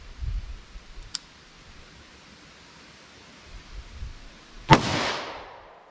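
.38 Special revolver with a 2-inch barrel fires one sharp, loud shot outdoors, its report trailing off in a brief echo after a faint earlier tick.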